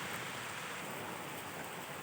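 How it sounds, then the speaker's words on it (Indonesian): Heavy rain pours down steadily, a dense, continuous hiss of drops drumming on surfaces with no pauses and no voices. "karena hujan semakin deras"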